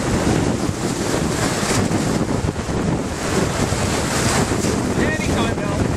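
Steady, loud wind roars across the microphone beside a lake, with a continuous rushing wash and faint water movement underneath, no voices heard.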